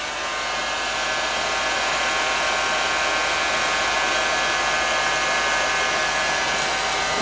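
Heat gun blowing hot air to shrink heat shrink tubing on battery cables for a 75 amp charger and 3KW inverter aboard a boat, a loud steady whirring blast throughout with no talk.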